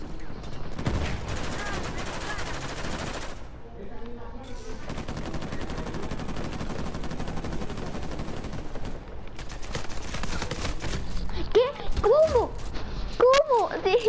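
Rapid bursts of Uncharted 4 gunfire crackle and pop, interspersed with brief pauses, while a voice talks over the action.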